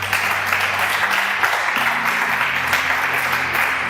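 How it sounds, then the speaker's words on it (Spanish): Church congregation applauding together at a service, a steady dense wash of clapping that fills the room and continues unbroken, with a low hum underneath. "Denle un aplauso a los esposos."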